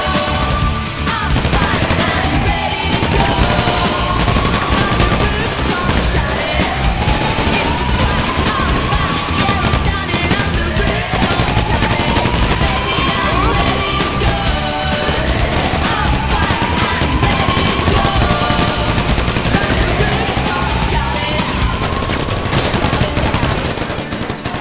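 Sustained automatic gunfire from a GTA V shootout, loud and continuous for the whole stretch, with repeated rising whine-like sweeps recurring every few seconds over the dense barrage.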